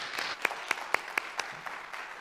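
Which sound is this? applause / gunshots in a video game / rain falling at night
applause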